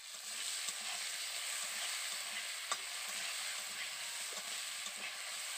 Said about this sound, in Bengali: এবার আমি ওই তেলের মধ্যেই কেটে রাখা আলুগুলো আমি দিয়ে দেব, হালকা করে ভেজে নেব